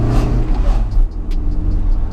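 A 1993 Toyota MR2 Rev 2 GT with its mid-mounted engine hums and revs under acceleration on a country road, a strong, steady engine drone rising and falling through gear changes, close and loud.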